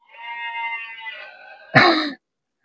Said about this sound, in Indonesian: Aduh, ini kambing.